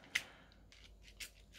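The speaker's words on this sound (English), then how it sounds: "but clicking on my teeth, no, they are plastic pins" Small plastic pins clicking against teeth indoors, a few short, sharp, bright ticks spread irregularly over a quiet background.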